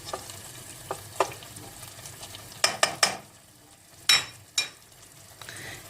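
Spoon stirring meat with sauce in a pot for Turkish bean stew, with intermittent sharp scrapes and clinks over a soft sizzling background, several distinct strokes spaced irregularly.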